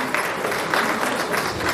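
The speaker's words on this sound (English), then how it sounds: "Give a round of applause as he's on the stage." Applause from the audience at an awards ceremony as a presenter walks onto the stage, a steady, dense wash of clapping held at an even level from start to finish.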